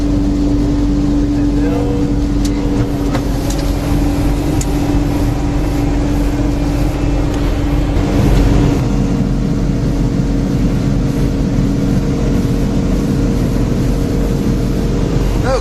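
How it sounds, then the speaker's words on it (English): A boat engine runs hard at high throttle in blowing wind, a loud continuous roar with steady droning tone, while a person talks over it. "We're going to give it a lot of throttle here."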